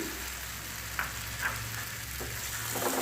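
Potatoes drop into fried masala and oil in a pan, and a continuous soft sizzle runs throughout with a few faint stirring scrapes; no one speaks.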